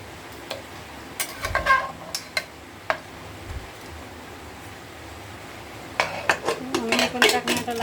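A spoon scrapes and clinks against a cooking pot while beef paya is stirred in hot water, giving scattered metallic taps with a quiet gap before a busier burst of stirring at the end.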